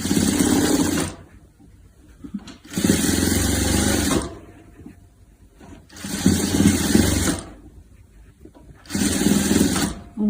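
A sewing machine stitches the edges of a 3D pillow, running in four loud, steady whirring bursts separated by short quiet pauses, close up.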